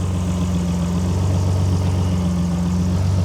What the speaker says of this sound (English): One of the most glorious engines ever made. The V6, made by Mr. Busso, or designed by Mr. Busso.